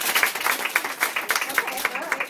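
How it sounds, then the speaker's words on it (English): An audience claps and applauds as a woman named Sarah comes up, a dense patter of hand claps that carries on steadily for a couple of seconds. "give her a round of applause"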